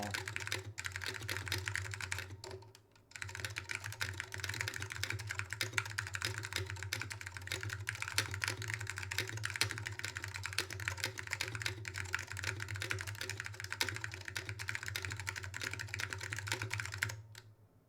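Rapid, continuous typing on an ADK64 mechanical keyboard with Alps switches, a dense stream of crisp key clacks with a brief pause near the start, heard close and steady throughout.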